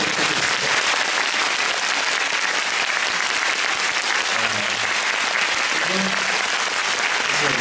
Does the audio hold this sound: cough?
no